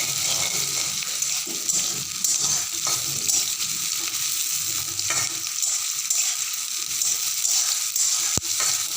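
Black cumin and green chillies crackle as a tempering in a hot pan, giving a steady close sizzle with stirring scrapes and a sharp tap near the end, no one speaking.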